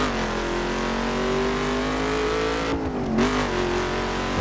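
A Ford Mustang driven in the racing game The Crew holds a steady, loud engine drone with a smooth rising pitch, dipping briefly before climbing again, heard close and alone.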